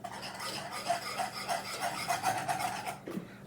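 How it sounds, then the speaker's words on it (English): A whisk scrapes and rasps through confectioners' sugar in a bowl of melted chocolate icing for an old-fashioned double chocolate Coca-Cola cake, with steady rhythmic rubbing strokes, close and moderately loud, and no talking. "we're going to whisk in this confectionery sugar"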